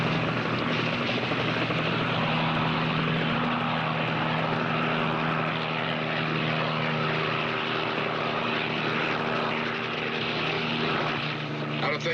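A police helicopter flies overhead above desert terrain, its steady droning rotor and engine hum holding at a constant level for the whole stretch, with no talking.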